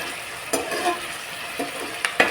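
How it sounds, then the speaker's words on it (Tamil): Ginger garlic paste frying in oil for chicken biryani, a soft continuous sizzle broken by a few sharp stirring scrapes and clinks. "எண்ணெயில் இஞ்சி பூண்டு பேஸ்ட்டு வதங்கணும்."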